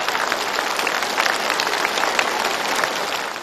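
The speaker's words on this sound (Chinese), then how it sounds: "鼓掌" Loud, sustained applause from a large crowd, a dense continuous roar of clapping that holds steady throughout.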